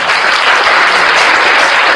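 Loud, dense applause from a crowd at a religious gathering, sustained and steady for the full two seconds with no voices rising above it.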